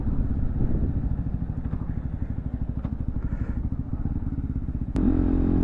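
A Zontes Scrambler 125 motorcycle on the move, its engine a steady rapid thrumming pulse heard up close, with a sharp clack near the end as the tone shifts.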